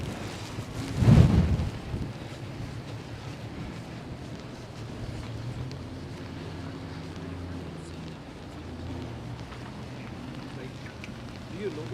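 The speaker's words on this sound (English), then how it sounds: "Look at that wind." Steady wind roars through downtown Toronto during an evening snowfall, a broad continuous rush with a louder gust near the start, and a voice speaks briefly over it.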